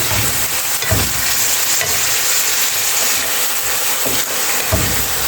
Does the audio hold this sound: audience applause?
no